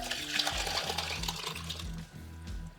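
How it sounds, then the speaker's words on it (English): Brandied cherries poured into a bowl give a soft wet slosh and trickle, with light clinks from the bowl's rim, close and quiet. "I'm gonna pour it in the bowl first."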